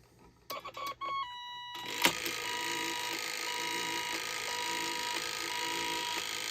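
A Holtzer Cabot fire pull alarm box, hooked to an oscillator, beeps out its code in a steady pattern over a constant background hum, with a few sharp clicks near the start.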